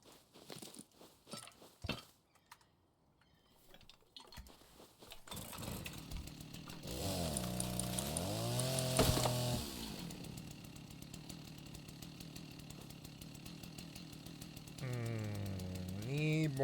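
Wood is chopped in a video game, producing repeated buzzing, chainsaw-like chopping loops with crunchy hits and a pause between bursts, while a player talks intermittently.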